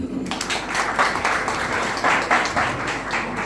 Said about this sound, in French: mon leader Rodrigue Niawa, que vous demande d'applaudir